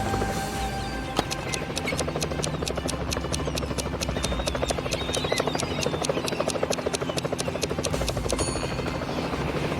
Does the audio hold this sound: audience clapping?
no